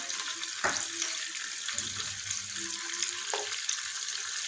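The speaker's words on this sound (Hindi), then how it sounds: "1 से 2 मिनट के लिए फ्राई करेंगे इसको, हल्का सा कलर देंगे" Masala for a mutton kofta curry fries in a pot as a faint, even sizzle broken by a couple of brief utensil knocks, with no speech.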